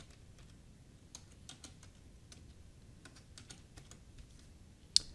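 Soft keystrokes on a computer keyboard tap out a short search entry in an irregular, light patter, ending with one sharper, louder key press, with no voices over a quiet room hiss.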